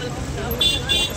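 Road traffic jammed at a college square during an Ashadhi Ekadashi town procession: a steady low rumble of vehicles with a brief higher tone, heard under someone talking.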